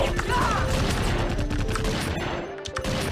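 Rapid gunfire from a video game where shooting is impossible in midair, a dense clattering barrage running nearly nonstop under game effects and faint voice, dipping briefly near the end before resuming.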